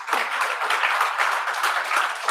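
A class audience claps together in a dense, continuous burst of applause, close and fairly loud, with no voices over it.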